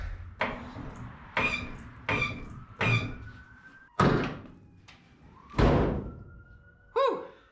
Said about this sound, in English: That was just the hood slamming, scared me.